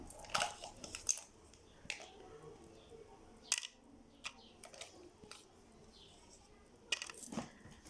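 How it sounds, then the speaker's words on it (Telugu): Several hard clattering knocks as ice cubes drop into a blender jar, scattered over a few seconds with quiet gaps between. "ఐస్ ముక్కలను వేసేస్తున్నాను."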